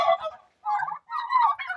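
Turkeys, including white turkeys, gobble on a home farm in several loud, close bursts separated by brief pauses.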